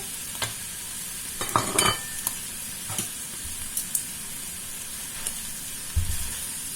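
Chicken and half-cooked noodles stir-fried in a wok, a steady background sizzle broken by scattered clinks and scrapes of a utensil tossing the food, close up, no talking.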